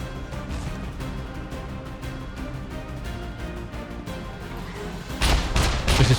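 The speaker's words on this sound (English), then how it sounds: "we've now got a mech shooting at us" Mech firing heavy gunfire in the survival video game SCUM, a dense, continuous rattle of rapid shots with booming impacts that grow louder near the end.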